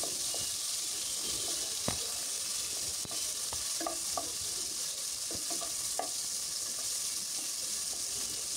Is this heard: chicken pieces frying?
yes